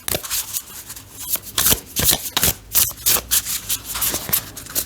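A deck of I-Ching oracle cards is shuffled and handled by hand, giving close, crisp bursts of riffling and flicking paper in irregular clusters, with no talking.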